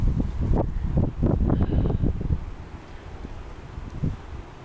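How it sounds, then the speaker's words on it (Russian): Strong gusty wind blowing across open countryside in Bryansk Oblast, Russia, buffeting the microphone in loud, uneven bursts that ease into a quieter rushing background. "Когда ветра нет, так хорошо. Но когда порыв, прям вообще страх."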